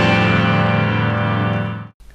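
The opening chord of a song, struck once on guitars and piano, rings out loud and full for nearly two seconds before it is cut off abruptly.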